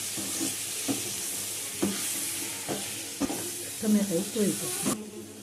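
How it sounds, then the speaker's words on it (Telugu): Tomatoes frying in a pan with a soft continuous sizzle, broken by several sharp stirring scrapes at irregular intervals and a brief burst of clattering near the end, moderately quiet and close. "టమోటాలు కూడా కాసేపు వేయించుకుందాం."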